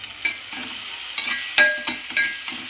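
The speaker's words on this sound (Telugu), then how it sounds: "అలా టమోటా మ్యాష్ అయితే వేగితే చాలండి, పచ్చిమిర్చి." Tomato and green chilies fry in a pan for egg fried rice, a close, steady sizzle broken by several sharp stirring scrapes at irregular intervals.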